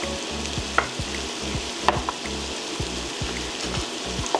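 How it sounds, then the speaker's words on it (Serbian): Onion fries in a pan with a steady crackling sizzle, punctuated by a few sharp clicks and light knocks, no voices over it. "Dok se luk prži"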